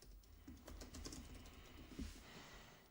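Someone types on a computer keyboard while building an online store, giving quick, faint, irregular clicks and taps in short bursts, close and quiet, with no voices.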